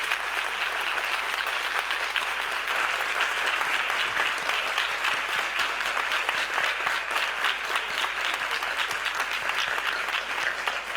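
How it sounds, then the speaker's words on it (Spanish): Sustained audience applause at a literature lecture series event, a dense steady clapping from a full room lasting throughout without letting up. "os agradezco mucho los aplausos"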